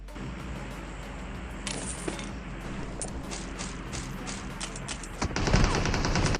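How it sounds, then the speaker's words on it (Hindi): Gunfire in the mobile battle royale game BGMI, with a sniper firing from a tower: sharp game shots and clattering bursts over a steady in-game ambience, getting louder and denser toward the end. "जो बंदा मुझे फायरिंग किया था वो बंदा स्नाइपर टावर में था"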